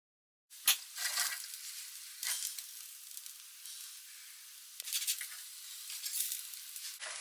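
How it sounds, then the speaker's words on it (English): Jerk mushroom burgers sizzling on a raclette grill: a steady bright hiss of frying, swelling a few times, close and alone without talk. "So I'm just going to now leave my burgers to grill nicely"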